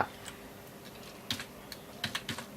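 Keys tapped on a computer keyboard while naming a file in video-editing software, a quiet scatter of irregular clicks with a couple of quick bursts near the end, close and faint with no talk.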